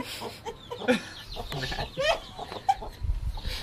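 Hens kept on a university campus farm cluck and squawk nearby in a busy, overlapping chorus of short calls over low background rumble, with faint talk mixed in.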